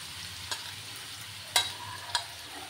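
Beans, carrots, peas and grated ginger dropped into a hot pan for Bengali-style fried rice, a low steady sizzle broken by a few sharp clicks of a spatula stirring.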